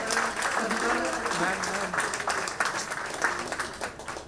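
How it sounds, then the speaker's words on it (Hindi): Applause from a crowd, dense and steady, with voices and a buzz of music or chatter running underneath. "जोरदार तालियों के साथ"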